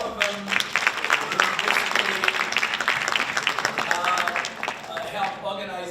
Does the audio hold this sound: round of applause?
yes